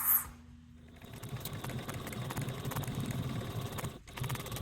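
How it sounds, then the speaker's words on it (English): A sewing machine stitching the bottom edges of a handbag's fabric at a 3/8 inch seam allowance, a close steady rapid whirring hum that starts after about a second and pauses briefly near the end. "Take this to your machine and you want to sew the bottom edges at a 3/8 seam allowance."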